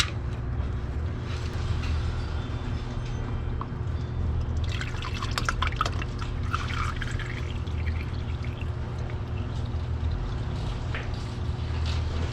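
Engine oil draining from the dry sump of a C7 Corvette during an oil change, a continuous pouring trickle with drips over a steady low rumble, close and unbroken, no talking.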